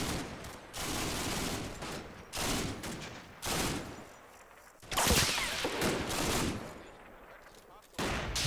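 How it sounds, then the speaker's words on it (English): Small arms gunfire rings out in a night battle of the Combat Mission video game, with repeated loud bursts and volleys separated by short pauses across the field. "We trade small arms fire across the darkened field."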